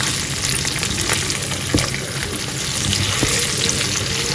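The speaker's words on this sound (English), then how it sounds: "So I'm just gonna fry this for about maybe 5 to 10 minutes" Tomatoes frying in a pan for a beans dish give off a steady close sizzle and crackle, with a few sharp pops and stirring scrapes, and no voices.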